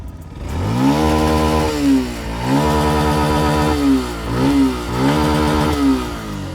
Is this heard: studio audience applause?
no